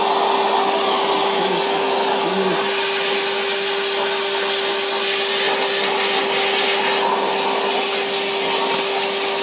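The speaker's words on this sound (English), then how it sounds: "The inside of the motor is very dusty, so we are now going to clean it with the hoover." A vacuum cleaner hoovers dust from inside a PS4's fan motor, a loud steady whine with a fixed hum tone and a broad airy rush that stays unbroken throughout, no voices.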